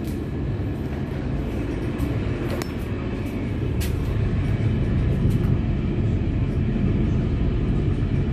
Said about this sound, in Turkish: Zonguldak bu tren Karabük'e gidiyor arkadaşlar.